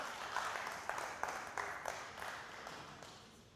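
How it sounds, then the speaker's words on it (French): An audience applauds a contestant at a school poetry competition, a soft, fairly distant wash of clapping with a few sharper bursts, fading gradually toward the end. "On applaudit bien fort pour Priska."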